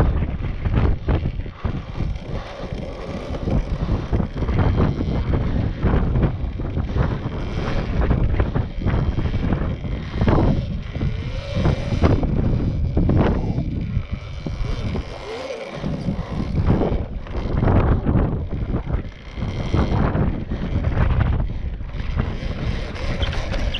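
Strong seaside wind buffets the microphone while riding an Apollo RFN electric dirt bike, a loud, continuous roar with gusting swells and a brief lull midway.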